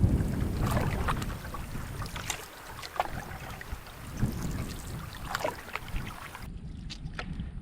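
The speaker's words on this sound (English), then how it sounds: "we're paddling, trying to paddle quietly through this creek" Canoe gliding quietly along a creek in the Quetico wilderness on a morning trip, soft paddle strokes and water swishes repeating at an unhurried pace over steady outdoor ambience with light wind, nearby and gentle.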